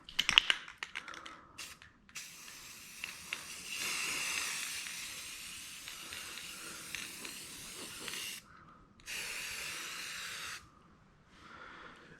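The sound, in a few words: spray paint being sprayed onto homemade coot decoy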